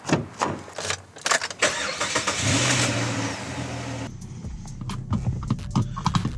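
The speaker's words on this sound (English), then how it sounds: "Down the roads, I'll give it a little bit of throttle." Holden G6E Turbo engine starting and revving with throttle, a close mechanical clatter of clicks leading into a rising, sustained engine roar, then lower rumbling with rhythmic knocks as it drives off.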